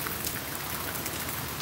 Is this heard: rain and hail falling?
yes